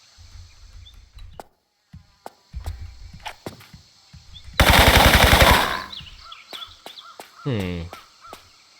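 Machine gunfire rattles in a loud burst about a second long in Tomb Raider III Remastered's South Pacific coastal village level, among scattered gunshots, footsteps and crow-like caws in the game's ambience.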